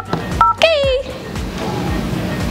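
Dialing a call on an oversized novelty iPhone gives a quick run of loud, close electronic dial tones and short beeps, with a voice speaking over part of it.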